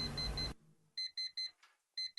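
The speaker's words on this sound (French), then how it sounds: "programmer son réveil en retard" A bedside alarm clock rings in short, loud electronic beep bursts, four pulses in a steady rhythm followed by one more after a pause, heard alone just after a burst of louder noise cuts off.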